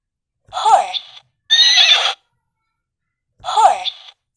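A horse neighs and whinnies in three separate calls, each clear, close and loud, with short silences between them.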